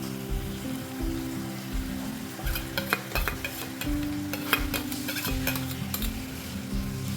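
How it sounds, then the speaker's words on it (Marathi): Tomato puree goes into cauliflower and potato vegetables frying in a pan, with a continuous sizzle and repeated scraping stirs and utensil clinks throughout, close and fairly loud. "आता ह्यामध्ये घालूया ही टोमॅटोची प्युरी"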